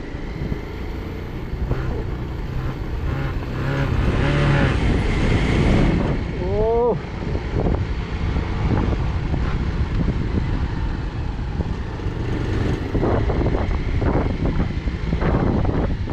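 A motorbike rides slowly along a Darjeeling mountain road, its engine a steady rumble buried under heavy wind buffeting on the microphone, with a brief horn-like tone partway through.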